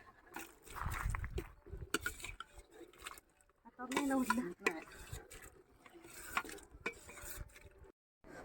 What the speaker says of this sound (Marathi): इथं आता अगोदर शाबू पाण्यामध्ये असं वैरून घेतो